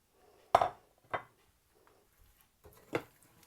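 Chicken pieces being mixed in a bowl with red chili powder, turmeric, tandoori masala, chili flakes and food colour, heard as a few sparse spoon-on-bowl clinks and knocks against near silence.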